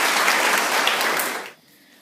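Students and families at a primary school end-of-year presentation day give a burst of dense applause, steady and fairly loud, which then cuts away abruptly to near silence.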